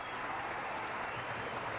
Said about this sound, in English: he gets a fine hand from this crowd